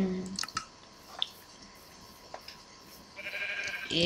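Sheep bleat in a survival video game, with a short bleat near the end standing out over faint dripping and squishy game effects and a few soft clicks.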